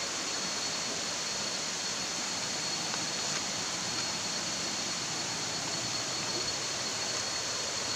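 Lambingan Falls pours in a steady, even broadband rush of water, a constant hiss-like roar without breaks, heard alone and at moderate level.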